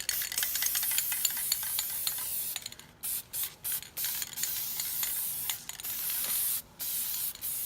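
Aerosol spray hisses in bursts, long and short, with brief pauses and faint rattling between sprays, as fall leaves laid on paper are sprayed to preserve them.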